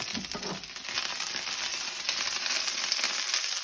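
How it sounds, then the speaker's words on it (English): Batter crackles and sizzles in a hot pan, a constant bright hiss with faint spatters, close and unbroken. "You can really hear that sizzling now, eh?"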